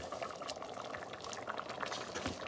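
A pot of rice with green onions, salt and black pepper boils with a close, steady bubbling and gurgling that holds at an even level throughout.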